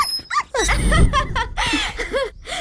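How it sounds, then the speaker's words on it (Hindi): A puppy whimpers in a dubbed Hindi action-comedy film scene, giving several short, high, wavering cries in quick succession, close and fairly loud, with giggle-like sounds mixed among them. "कंचनमाला मतलब कुत्ते का बच्चा?"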